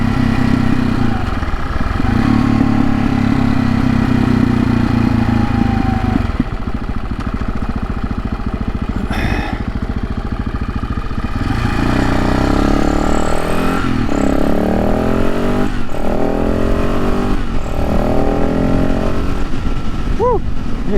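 A Supermoto motorcycle's engine drones loud and steady throughout a ride, with shifting pitch as it accelerates and eases off, and wind buffeting mixed in.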